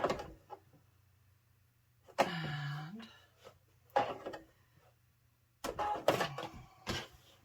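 Sewing machine stitching a tote computer bag together in short bursts, each run a few seconds long with quiet pauses between, fairly close and moderately loud.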